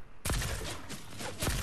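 Gunfire in Fortnite, a sharp onset of loud shooting that continues as a dense burst, with another strong shot near the end.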